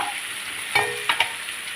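Steady sizzle of vegetables frying in a pan for Tamil ridge gourd kadayal, with a few sharp scraping stirs of a spatula partway through.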